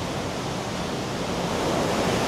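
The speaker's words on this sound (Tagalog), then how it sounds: "malakas pa rin ang alon kahit maaga" Strong morning surf pounds the shore at a beach in Botolan, Zambales, a dense, steady roar of breaking waves with no pauses and no voices.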